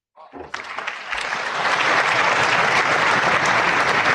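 Applause at a State of the Union address swells quickly from a few claps into a dense, loud, sustained roar of a large crowd clapping, with cheering voices mixed in.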